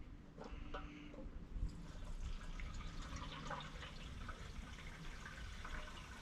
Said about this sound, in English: And we'll go ahead and pour in a full tank.